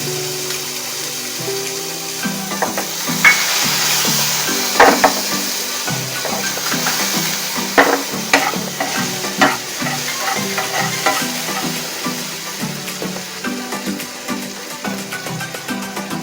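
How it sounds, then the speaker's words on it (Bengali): Garlic frying in a pan in a home kitchen gives a steady sizzle, with frequent stirring scrapes and knocks and a low tonal hum running through it. No one speaks. "প্রথমে রসুনটা ছাড়া হবে, রসুনটা হালকা ভাজা হলে তারপরে অন্য কিছু দেওয়া হবে"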